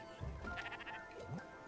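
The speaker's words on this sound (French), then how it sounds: "on nourrit notre mouton." Sheep bleating in the video game Spiritfarer, a couple of short wavering bleats close by, fairly quiet, with no talk over them.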